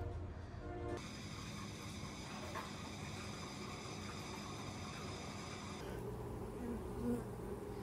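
Honey bees hum around an opened hive during a beekeeping inspection, a dense, steady buzzing drone close by that shifts in tone partway through, with no talking.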